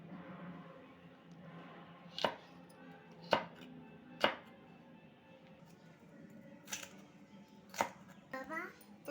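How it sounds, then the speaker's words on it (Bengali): A knife cuts capsicum into pieces on a board, with a handful of sharp, widely spaced chops close by and a soft voice talking underneath. "তো এই যে ক্যাপসিকামটা একটু এরকমভাবে পিস পিস করে কেটে নেব।"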